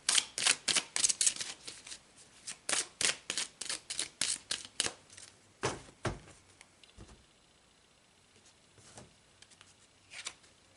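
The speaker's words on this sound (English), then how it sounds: "So let's pull some more cards." A deck of tarot-style reading cards is shuffled in a quick run of crisp riffling bursts, close and fairly quiet, then thins into a few scattered card flicks and taps with no talking.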